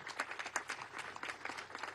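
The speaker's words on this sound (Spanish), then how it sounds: "un aplauso a los niños y niñas de la patria" Applause for children at a Venezuelan government event handing out social program cards: a dense, steady patter of many hands clapping together, fairly faint and distant, with no talk over it.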